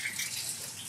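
Water running from a Kangen SD501 alkaline water machine, a steady soft hiss of flowing water, faint and continuous for about a second with no speech.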